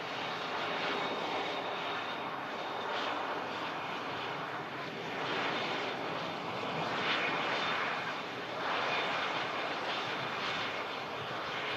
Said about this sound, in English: That's a lovely touchdown from the Lufty.